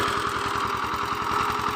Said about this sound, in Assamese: ট্ৰেক্টৰ মই কেনেকৈ টানে আপোনালোকে চাই লওক ভালকৈ